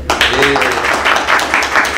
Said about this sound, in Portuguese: salve de palmas pra gente